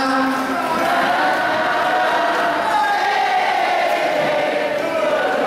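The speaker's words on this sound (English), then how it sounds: "Big applause, big applause." A resort show crowd at the Riu Ocho Rios in Jamaica cheering and applauding after a group sing-along, a continuous loud wash of voices and clapping that holds steady throughout.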